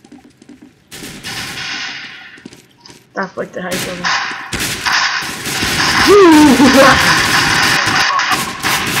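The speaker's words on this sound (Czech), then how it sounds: "Kde to střílí?" Bursts of video game gunfire crackle between a man's loud, excited talk, with sharp shots and chaotic noise building toward the end.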